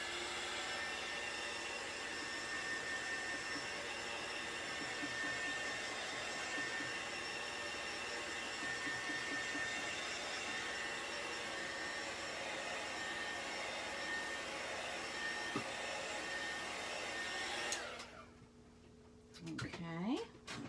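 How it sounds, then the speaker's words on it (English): A handheld electric heat dryer blows over freshly applied chalk paint on a DIY fall pumpkin-patch sign, whirring steadily and closely for about seventeen seconds before cutting off. "I'm going to grab my dryer and go over this part just to make sure it's good and dry"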